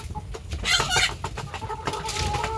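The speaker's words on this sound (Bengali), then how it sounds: "জীবন মুরগি এখন কয়টা আছে মোট" Chickens and roosters on a farm clucking and squawking nearby, overlapping calls rising in bursts over faint background noise.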